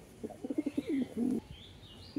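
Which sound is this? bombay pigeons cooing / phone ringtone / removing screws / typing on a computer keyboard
bombay pigeons cooing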